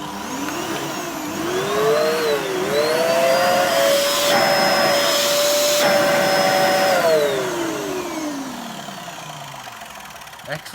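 A Hoover Dust Manager Cyclonic DM6228 vacuum cleaner motor spins up with a rising whine, runs loud and steady for several seconds, then winds down as the pitch slowly falls away.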